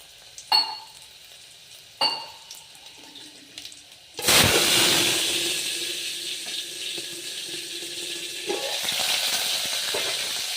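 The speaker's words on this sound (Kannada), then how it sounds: "ಬೆಳ್ಳುಳ್ಳಿ ಕುಟ್ಟಿರೋ ಬೆಳ್ಳುಳ್ಳಿ ಹಾಕ್ತಾ ಇದ್ದೀನಿ" Crushed garlic dropped into hot oil for a village-style horse gram curry: a couple of sharp clinks, then a sudden loud sizzle that settles into a steady frying hiss, with stirring scrapes near the end.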